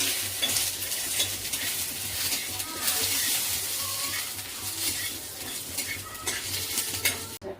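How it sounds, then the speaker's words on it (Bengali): Cumin seeds with dried red and green chillies tempering in hot oil for a mung dal with pumpkin leaves, giving a steady close sizzle and crackle with occasional stirring clinks. "জিরে ফোড়ন দিও আর শুকনো লঙ্কা আর কাঁচা লঙ্কা, এগুলো ফোড়ন দেবে।"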